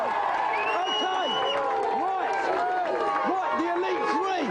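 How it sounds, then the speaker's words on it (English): Studio audience applause and crowd noise on a TV video-game show, a steady wash of clapping mixed with overlapping voices and cheering throughout. "let's have a big round of applause for this team anyway"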